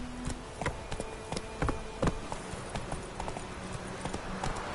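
A horse gallops in a video game, its hooves clip-clopping in quick, uneven bursts of sharp close hits over a dull ambient bed, with no voices.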